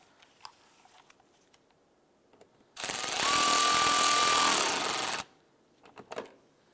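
A power tool drives a screw into the lower front bumper trim of a 2011-2019 Ford Fiesta, giving one close, steady whirring burst of a couple of seconds among faint handling noises.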